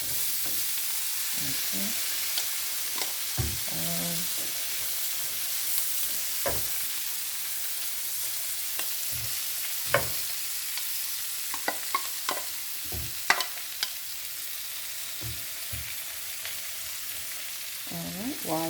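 Chopped onions and spinach frying in a pot for grits and shrimp, a steady close sizzle under occasional scraping stirs and clinks of a utensil, with one brief spoken word.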